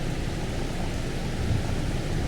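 Steady, dense rain hiss in a farming video game, a constant even wash of broadband noise with a faint low rumble underneath, heard alone without speech.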